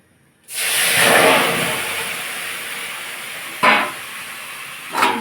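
Salted, turmeric-rubbed fish hits hot oil in a wok with a sudden loud, broad sizzle that settles into a steady hiss, with two brief spattering flare-ups near the end.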